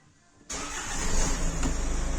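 A Hyundai Santa Fe engine cranks and fires after a brief quiet moment, then settles into a loud, steady idle close by, with no talking.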